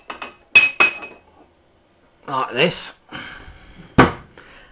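Someone takes a flat-bottomed glass out of a kitchen cupboard while making a lemon cheesecake, giving several sharp glassy clinks and knocks close by, mixed with spoken talk.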